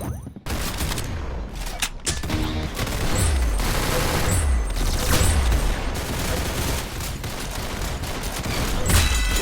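Rapid gunfire from the video game Arsenal, a near, continuous barrage of shots with deep booming impacts recurring throughout, loud and sustained.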